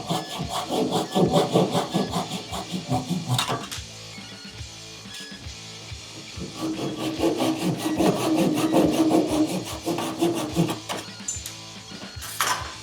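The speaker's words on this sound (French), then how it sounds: "Coup de scie pour les araser." A hand saw flush-cuts protruding pine pegs on a Scots pine staircase in quick rhythmic back-and-forth strokes, close and steady, with a short pause before the sawing resumes.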